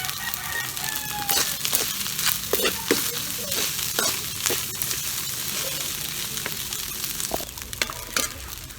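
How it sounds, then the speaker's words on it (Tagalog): Garlic fried rice with a little burnt garlic crisps and sizzles in a pan over a wood fire, a steady close crackle with sharp pops throughout, while a rooster crows faintly in the distance near the start. "Naglalangit-ngit po yung tunog kapag naluluto po yung kanin."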